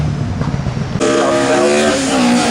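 A Ford Focus Cosworth rally car roars past close by, engine note jumping suddenly to a loud, high revving whine that holds steady as it goes by.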